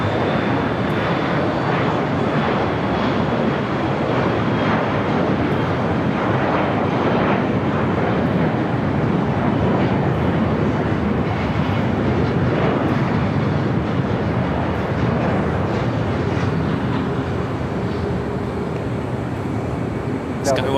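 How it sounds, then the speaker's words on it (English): SkyWest CRJ regional jet at Los Angeles airport, a continuous loud jet engine roar and rush with steady broadband noise, with faint voices in the background. "SkyWest CRJ."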